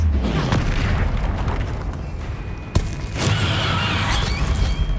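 A Confringo explosive spell blasts during a troll fight in the game Hogwarts Legacy, heavy booming rumble throughout with a sharp crack near the middle followed by a bright burst, loud and dense, without speech.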